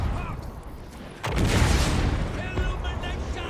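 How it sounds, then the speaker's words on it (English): A cannon battery in a Warhammer battle fires with a deep boom that swells suddenly midway and rumbles on, set against a continuous din of distant battle noise. "Let's just watch this cannon battery just fire."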